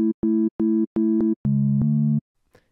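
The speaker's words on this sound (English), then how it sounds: "And when you use a sine wave," A clean synth sine wave tone for a deep house bass plays a short pulsing pattern of five evenly spaced notes, then a longer held lower note, smooth and loud with crisp clicky attacks, followed by a faint trailing noise.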